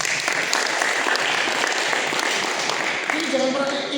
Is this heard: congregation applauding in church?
yes